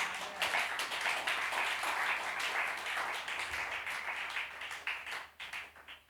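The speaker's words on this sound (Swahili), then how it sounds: "Pigia Yesu makofi." A church congregation claps for Jesus during a testimony: loud, dense, continuous applause from many hands that holds steady, then thins into scattered claps near the end.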